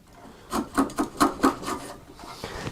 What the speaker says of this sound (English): Stabbing motions. If the chisel is sharp, you're not going to need any mallet.